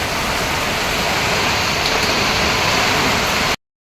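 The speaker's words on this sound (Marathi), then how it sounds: "बघा तुफान पाऊस पडतो" Heavy monsoon rain pours down on Mumbai in a dense, steady roar with a gusty hiss of wind, constant and loud throughout before cutting off abruptly.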